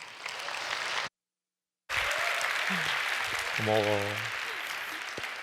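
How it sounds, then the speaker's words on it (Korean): Church congregation clapping to welcome the pastor at a worship gathering, steady applause broken by a brief silent gap, then resuming with a short spoken remark and a sung or hummed tone over the clapping. "목사님 나오실 때 큰 박수로 맞이해 주시기 바랍니다"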